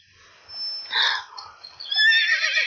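A horse whinnies in repeated high, wavering bursts, loud and close, with a short pause between calls and no talk over it.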